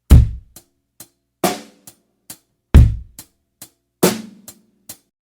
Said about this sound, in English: Add quarter notes with the bass drum on 1 and 3 and the snare drum on 2 and 4,